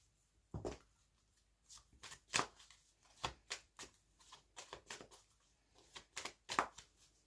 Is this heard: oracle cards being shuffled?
yes